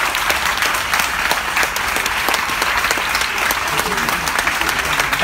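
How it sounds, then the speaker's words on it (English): An audience claps in a dense, steady round of applause for a standing ovation, loud and continuous throughout. "Can we please get a standing ovation?"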